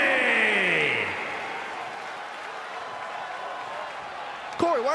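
Arena crowd in WWE 2K24 applauding a tag team's entrance, a steady wash of clapping and cheering that fades slightly, with a voice breaking in near the end.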